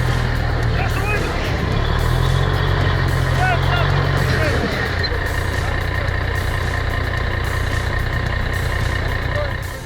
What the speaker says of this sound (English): what a pleasant sound of a diesel engine